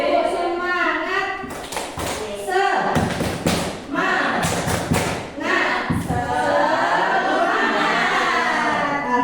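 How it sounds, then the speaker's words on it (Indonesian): A group in an Indonesian teachers' training session performs a 'tepuk semangat' spirit clap: sharp rhythmic bursts of clapping in patterned groups, alternating with chanted voices and talk, close and loud. "Kalau begitu kita tepuk semangat dulu ya."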